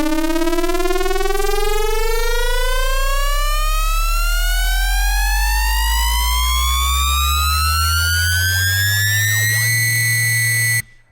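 A riser synthesized in Sytrus, its harmonic tones sweeping steadily upward for about ten seconds over a deep bass drone, loud and constant, then cutting off abruptly.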